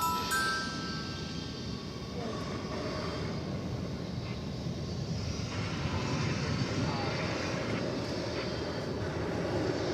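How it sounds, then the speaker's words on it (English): Boeing 777 bound for London Heathrow lined up on the runway at DFW Airport at night, a steady loud jet engine roar filling the whole stretch with a broad rumble, some faint voices underneath. "This is the 777 that's going to London Heathrow."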